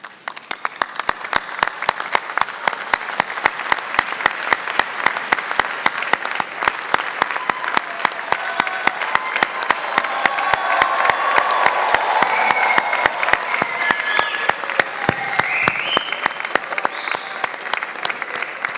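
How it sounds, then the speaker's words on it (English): Graduates at a BCU graduation ceremony give a long, sustained round of applause to the audience, with dense rapid clapping from a large crowd filling the hall and swelling slightly in the middle before tapering off. "give them a BCU round of applause to say thank you"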